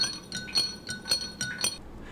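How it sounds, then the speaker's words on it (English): Spoon stirring food coloring into a glass of water clinks rhythmically against the glass, about six bright, close taps in quick succession with no talking. "and give it a good stir"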